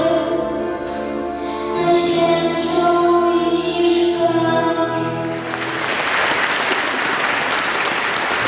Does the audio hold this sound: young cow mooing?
no